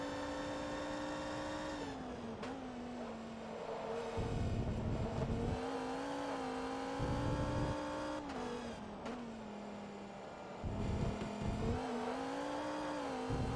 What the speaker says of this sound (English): you can hear the high-pitched whistle of the Carrera GT behind